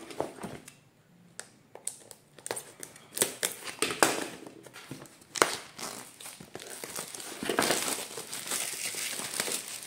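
Packaging for a WI-TEK outdoor antenna is torn open in irregular bursts of close crinkling, crackling and tearing, with sharp individual rips followed by steadier rustling.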